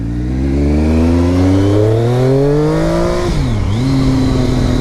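A 2015 Triumph Daytona 675 motorcycle engine revs loud and close, its pitch climbing steadily, dropping sharply in a quick blip, then holding high again, with no voices.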